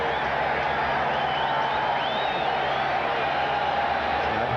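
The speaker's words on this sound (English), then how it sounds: "which provokes a cheer from the Raider fans" Raider fans cheering in a Los Angeles stadium during a Chiefs game, a steady, distant crowd roar that holds evenly throughout, with faint whistles rising above it.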